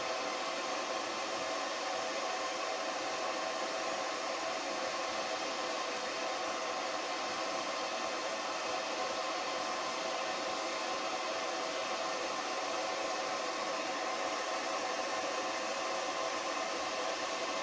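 A hair dryer clamped in a vise blows continuously at a steady pitch, a close, even whirring roar that never changes for the whole stretch.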